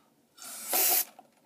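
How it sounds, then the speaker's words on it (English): Aerosol can sprayed in a steady hiss lasting under a second, rising louder toward the end, close by during hand loading of 7.62x25mm Tokarev ammunition; no talk. "Just gonna spray."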